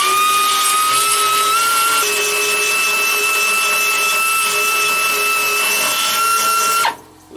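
Angle grinder works over a filled weld on the rear hatch of a rotten 1956 oval-window VW Beetle chop top, a steady loud whine with high tones running nearly seven seconds before cutting off abruptly.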